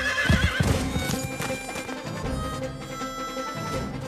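A horse whinnies loudly and close, with clip-clop hoofbeats underneath in a cartoon setting, the neigh rising and wavering while the hooves carry on steadily, with no speech.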